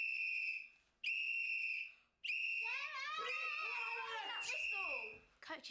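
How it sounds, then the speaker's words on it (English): Three shrill whistle blasts, the last one long, with people shouting and screaming underneath as it sounds. "Coaches use whistles all the time to attract attention and motivate people."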